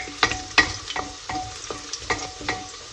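Chopped garlic fries in a pan with a steady close sizzle, punctuated by several sharp scraping stirs about every half second, with no talking, while preparing tomato chutney.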